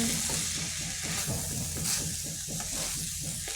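A long bean stir-fry with freshly grated coconut is stirred in a pan, with rhythmic scraping strokes over a steady close sizzle, no voices present.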